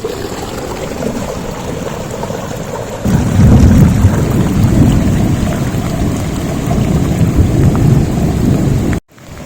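Heavy rain and hail from a thunderstorm pour down in a dense roar while thunder rumbles and swells midway, loud and close, before the sound cuts off abruptly.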